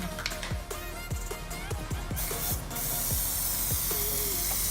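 Plasti Dip aerosol spray coating a Holden Commodore VX front grille: a steady, close hiss of spraying that grows fuller and more continuous in the second half, mixed with some clicking handling noises.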